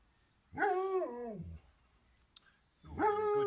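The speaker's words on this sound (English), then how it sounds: "You're having a good day today, you dogs, and Jar." Dogs whimper at a home garden, two drawn-out whining cries with a pause between, close and fairly clear against a quiet background.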